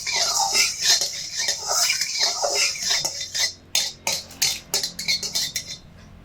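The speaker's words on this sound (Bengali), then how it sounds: "তেল একটু নেড়ে চেড়ে নেব।" A metal spatula scrapes and taps against a hot kadai while a small amount of white oil is stirred, a run of clinking strokes that turns into sharper, spaced scrapes toward the end, with no talking.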